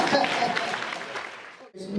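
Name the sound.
audience clapping hands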